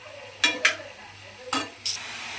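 Sliced onions, curry leaves and carrot frying for carrot rice, with a soft background sizzle broken by four sharp stirring scrapes of a spoon in the pan.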